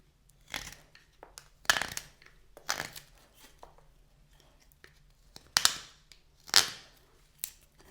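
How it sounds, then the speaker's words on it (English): Sharp scraping and cracking as a knife carves wet birch wood, five or six separate strokes spaced irregularly, close by, with quieter rustling between them. "The reason it sounds quite bad is because this wood is quite wet."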